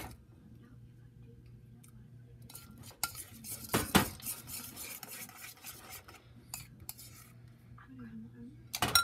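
Elmer's glue slime being mixed in a container, a faint, quiet scraping and tapping of the utensil with a few sharper clinks, low and close, with no talk over it.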